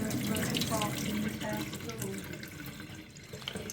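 Water runs from a kitchen tap to rinse out a sludgy coolant tank from a Mk1 Audi TT 225, a soft splashing flow heard fairly quietly with a faint voice in the background.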